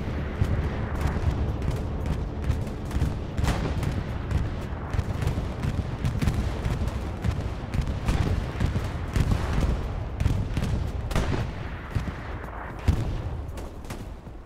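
Bombing run in the World War II shooter Hell Let Loose during a competitive Sainte-Mère match, with dense rumbling explosions and rattling bursts of gunfire that go on without a break, loud and close.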